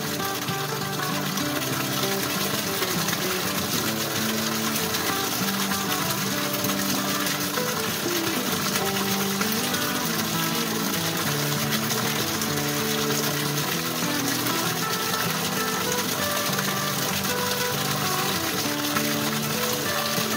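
Water gushes steadily into a water tank holding fish, a continuous loud rushing flow with a faint mechanical hum beneath it for twenty seconds.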